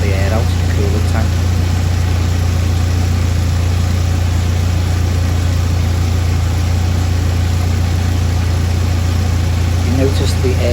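A Ford Escort RS Cosworth idles steadily with a water pump being fitted, a deep, even engine hum running unbroken throughout at close range, with faint clicks and a person talking over it.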